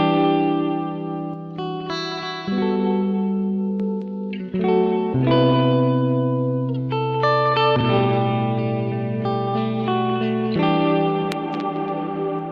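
Free VST delay plugin effects on a synth-like sustained chord progression, repeating echoes trailing each loud, continuous change of chord, with no voices.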